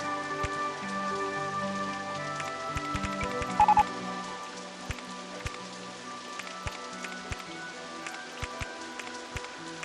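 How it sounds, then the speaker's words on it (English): Rain in the OpenRCT2 video game shifts from light to heavy, a steady wash of patter with scattered louder drops, moderately loud and continuous under tonal game music. "Go from light rain to heavy rain."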